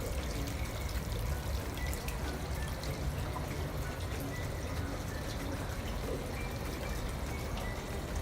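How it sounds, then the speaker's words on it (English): Water steadily pouring and trickling into a private onsen hot spring bath at a Mount Fuji resort in Japan, a continuous close splashing stream that runs unbroken throughout with no voices. "this is our private onsen hot spring where we can lay down later"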